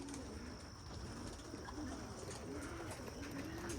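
Soft, repeated cooing of pigeons gathered in for feeding, low rhythmic coos recurring every second or so, faint and somewhat distant against a steady background hum.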